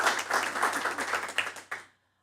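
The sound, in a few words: applause for Mr. Sparks at committee meeting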